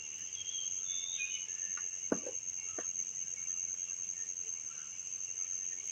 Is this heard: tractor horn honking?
no